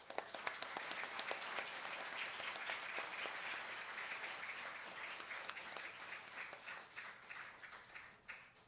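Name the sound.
applause for school teachers and staff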